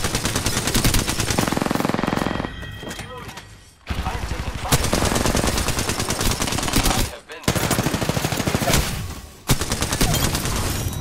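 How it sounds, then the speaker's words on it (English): Dense automatic gunfire and rapid bursts of shooting in an Apex Legends battle royale match, loud and nearly continuous with brief gaps, a voice talking over the shots. "I'm getting shot at."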